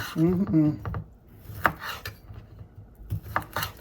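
Andouille sausage being cut for a seafood boil, a few knife taps and scrapes on a board close by, with a brief voice at the start.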